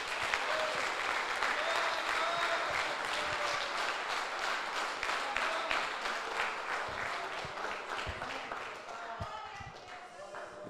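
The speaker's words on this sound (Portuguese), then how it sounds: "Aplauda o Senhor." A church congregation applauds in a sustained, dense wash of clapping that holds steady for several seconds before thinning out toward the end, with a voice faintly audible underneath.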